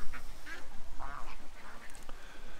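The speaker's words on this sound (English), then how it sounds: "the ducks are going to move around" Ducks quack in a yard, several short nasal calls in an irregular series, fairly close and overlapping, with a faint voice or two mixed in.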